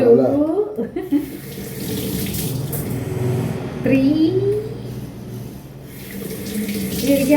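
Tap water runs steadily into a sink while pots and dishes are rinsed under it, with splashing that shifts as items move through the stream and voices talking over it.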